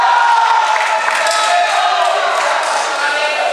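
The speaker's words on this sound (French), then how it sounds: "vous entendez les équipes qui applaudissent et encouragent leurs joueurs" Billiard teams at an eight-ball pool match applauding and cheering on their players, a continuous crowd roar with clapping and whoops, loud and steady throughout.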